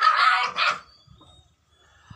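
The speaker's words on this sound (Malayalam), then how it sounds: "ഒരു പൊട്ടക്കിണറിൽ നിന്നും 2 നായ്ക്കളെ ജീവനോടെ രക്ഷപ്പെടുത്തുന്നത് ഇത് ആദ്യമാണ് അല്ലേ മജീദക്ക?" A puppy rescued from a disused well gives two quick, high yapping barks close by, followed by faint shuffling and a soft thump in near silence.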